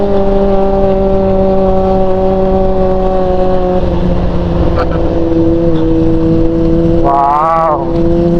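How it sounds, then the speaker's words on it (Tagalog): A Honda CB400 motorcycle rides through a tunnel, its engine a steady droning hum that holds throughout, with a brief rising rev near the end and voices talking over it. "Papatingin sila sa tunog ng motor natin."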